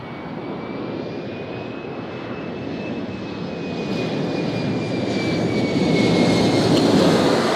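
A Southwest jet airliner takes off from runway 20 left at Nashville International Airport, its engine roar steady and broad, swelling gradually louder over several seconds with a faint high whine riding above, no talk over it.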